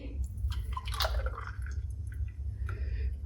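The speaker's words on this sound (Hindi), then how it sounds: "अब मैं जूस इसके अंदर डाल दूँगी" Melon juice is poured into a glass, giving soft drips and liquid trickles over a low background rumble, fairly close and without talk.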